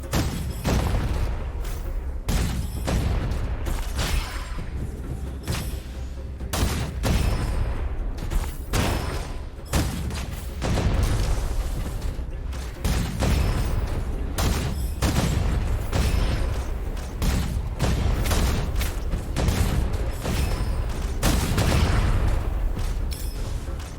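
Heavy weapon fire in the shooter Gunfire Reborn, including a double launcher: a dense, continuous barrage of booms and blasts with sharp transient cracks throughout, loud and relentless without pause.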